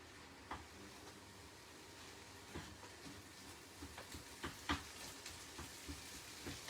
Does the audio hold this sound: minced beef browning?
yes